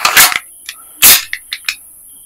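An E&C OPS MRP Hi-Capa gas blowback airsoft pistol firing 0.20 g BBs, several sharp loud pops in an uneven sequence, each with a quick snap of the sliding action, no talking.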